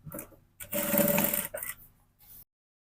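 A sewing machine stitches fabric for a milkmaid dress bodice in short close bursts, one longer whirring run in the middle between brief starts and stops, with no one talking.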